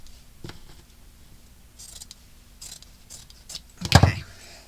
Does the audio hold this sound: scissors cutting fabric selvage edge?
yes